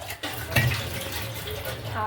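Tap water runs steadily into a sink for hand washing in a home at mealtime, a continuous splashing stream close by, with voices talking over it.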